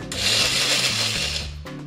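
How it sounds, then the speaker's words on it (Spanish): Countertop blender grinding oat flakes and almonds into powder, a steady loud whirring motor with gritty churning that holds for about a second and a half before briefly easing off. "vamos a pulverizar la avena en hojuelas. La agregamos a la licuadora junto con las almendras"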